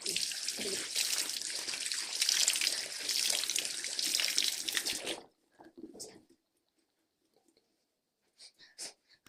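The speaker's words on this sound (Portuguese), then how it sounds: "Eu passei a água no meu rosto." Tap water runs steadily from a faucet into a sink as a face is splashed and washed, a loud continuous rush that stops abruptly, followed by a few faint drips and splashes.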